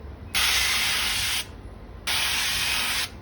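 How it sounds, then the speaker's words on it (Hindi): Cooking spray shoots from an aerosol can onto a non-stick pan in two close, loud, hissing bursts of about a second each, separated by a short pause. "डिओड्रेंट की तरह इसे स्प्रे करो।"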